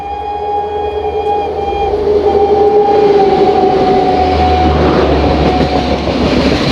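The Nangal Dam–Kolkata Gurumukhi Express (12326) rumbles past close by with a steady heavy roar, clacking wheels and a long sustained horn tone running through it.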